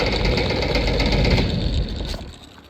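A vintage box fan running on high speed, around 2000 RPM, is switched off, its steady broadband whoosh and motor hum holding loud and near, then dropping away and winding down over the last second.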